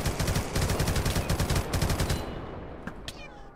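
Rapid bursts of video game gunfire from raiders, dense and loud for about two seconds in a fast stuttering rhythm, then fading into a quieter tail with a couple of faint later pops.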